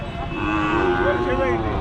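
A bull at the Pandharpur cattle market lets out a single long, loud moo up close, sustained for nearly two seconds with faint background noise.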